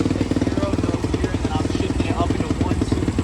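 A 125cc XPRO pit bike engine runs steadily with a dense, slightly boggy rumble and rattle, still fitted with its exhaust baffle. Voices talk over the motor nearby throughout.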